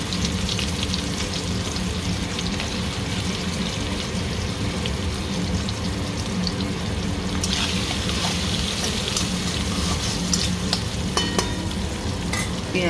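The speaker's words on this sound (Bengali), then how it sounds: "পেঁয়াজটা ভাজা হোক।" Onions fry in hot oil with cumin, giving a dense, steady sizzle close by, with occasional stirring scrapes and clinks against the pan, and no talking.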